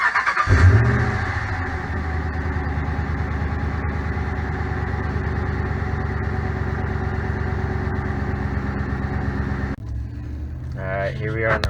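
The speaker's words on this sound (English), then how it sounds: "do a quick startup with the stock exhaust" A Ram 1500 pickup truck engine cranks and fires up, then settles into a steady, deep idle rumble through the stock exhaust before cutting out near the end.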